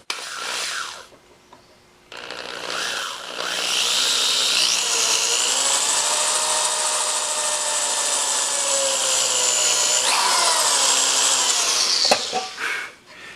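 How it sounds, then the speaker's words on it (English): A pilot hole being drilled into a mandolin body in a luthier's workshop, a loud steady power-drill whine holding for several seconds after a brief start, then cutting off, with short tool clatter around it. "we're going to take an awl and mark the exact center of that hole, drill a pilot hole"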